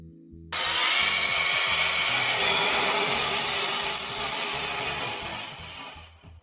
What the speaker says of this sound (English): let's try and see how this saw bites into a log like this